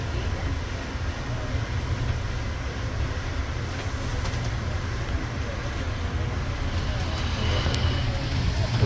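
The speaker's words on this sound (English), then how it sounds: "Long Island Railroad train right there below." A Long Island Rail Road train rumbles past below an elevated AirTrain at JFK Airport, a broad steady roar of wheels and rails heard from a moderate distance.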